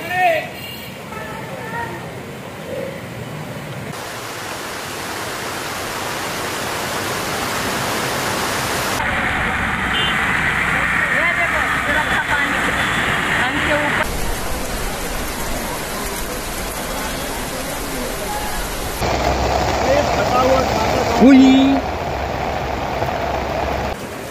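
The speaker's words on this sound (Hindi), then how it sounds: "अगर इसी तरह से बारिश पड़ती रही" Heavy rain falls at night in a town beside the rising Waldhuni river, a steady broadband hiss that shifts in intensity from section to section, with voices talking over it.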